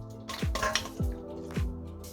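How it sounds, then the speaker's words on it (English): Eggs go into a bowl for cooking as three soft, evenly spaced knocks and clinks against the dish, close and fairly quiet with no voice over them. "Now to start with, I'm gonna put the eggs."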